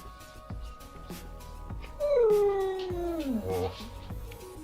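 A dog howls and whines insistently for food, several long, bending wails rising and falling over a couple of seconds, after short yelps, fairly close.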